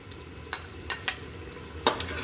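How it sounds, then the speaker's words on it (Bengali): A spoon stirs nut paste in a pot while chicken pulao cooks, making four sharp, separate scraping clinks over a low, steady kitchen hiss. "বাদাম বাটা দেওয়ার পর কিন্তু অনবরত নাড়তে হবে"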